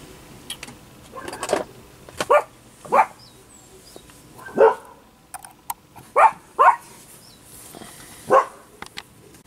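Several dogs bark in short separate bursts, close by and fairly loud, with some yips and whimpers between the barks and no talk over them.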